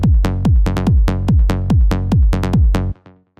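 Layered low-end bass and kick from a trance track produced in Ableton, pounding in a steady four-on-the-floor pulse of about a dozen deep hits, loud and close, then cutting off abruptly into a faint tail.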